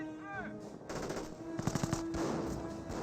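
Machine gun fire in the Company of Heroes video game: a short, rapid burst of several sharp shots over a layer of mixed battle noise, with a tonal whine near the start.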